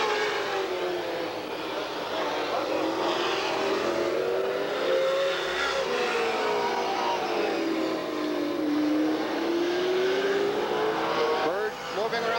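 Super stock race cars lap Redwood Empire Raceway in a 1986 main event, their engines a continuous loud roar whose pitch slowly dips and rises as the cars circle the track.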